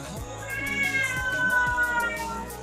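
A pet cat meows in an apartment, several drawn-out, rising and falling cries at close range, loud and clear over a low background hum.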